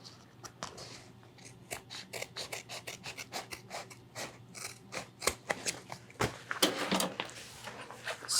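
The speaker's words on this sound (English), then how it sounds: "Take some scissors and trim that off." Scissors snip repeatedly through backpack fabric in quick, uneven cuts with rustling between them, close and fairly quiet, with no talking.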